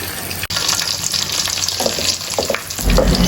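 Marinated, spiced chicken frying in a pan over low heat gives off a steady, close sizzle that holds through the clip, with a brief dip early on and a fuller bubbling swell near the end.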